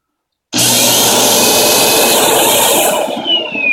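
Rotary hair clipper blades running: a loud, close, steady motorized buzz that starts abruptly after a brief silence, holds for about three seconds, then thins and wavers as it winds down.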